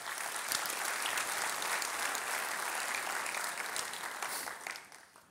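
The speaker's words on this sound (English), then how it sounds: "Can we give them a round of applause as well?" A civic audience at a Long Beach development update gives a dense, sustained round of applause, steady and full before tapering off at the end, with no talk over it.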